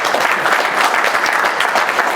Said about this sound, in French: Envie d'applaudir.